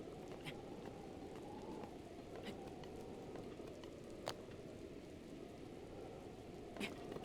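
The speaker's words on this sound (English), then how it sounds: "Why is it raining now?" Steady rain falling in the Hebra Mountains area of a Zelda video game, a continuous soft hiss of patter with a few brief sharper clicks; no one speaks.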